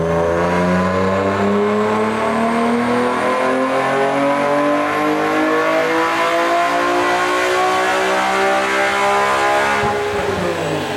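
A BMW E46 M3 engine revs hard and continuously, loud and close, its pitch climbing steadily through the rev range before a brief drop and a renewed rise near the end.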